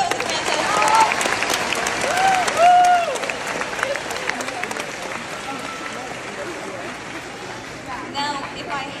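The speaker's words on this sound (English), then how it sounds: "Let's give ourselves a round of applause." A high school audience applauds steadily for several seconds, a dense wash of clapping from a large crowd that fills the room, with some voices mixed in.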